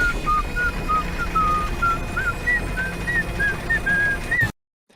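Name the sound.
Donatello whistling the 1987 TMNT theme song in a video game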